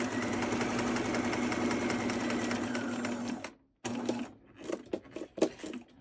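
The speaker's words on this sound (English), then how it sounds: "And just do about 1/4 of an inch seam all the way around." A sewing machine runs a quarter-inch seam on a baby boy's burial outfit, a fast steady mechanical whir close up, then a sudden brief stop followed by short uneven bursts of stitching.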